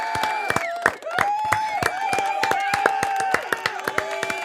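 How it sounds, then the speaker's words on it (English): A round of applause on a podcast, crisp rapid claps from a few people mixed with cheerful voices and tonal sounds, close and lively. "I'm giving you a round of applause."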